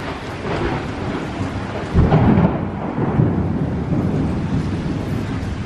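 Loud thunder rumbles through a heavy, pouring rainstorm, with a stronger crack and roll near the middle over the steady hiss of rain and wind.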